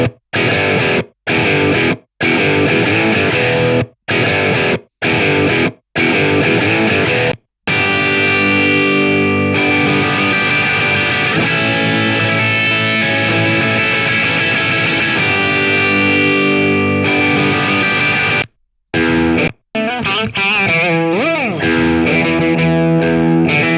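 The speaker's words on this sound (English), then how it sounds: "Let's just turn this on and see how it sounds out the box." A UAD Marshall amp plugin preset drives a distorted electric guitar: choppy staccato chords with short gaps, then a long sustained crunchy chord ringing out, and more stabs at the end, loud and upfront.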